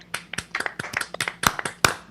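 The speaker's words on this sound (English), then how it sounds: "I'd like to hear you applaud." A live-stream audience claps in scattered, uneven bursts rather than a steady roar, with sharp individual hand claps standing out up close.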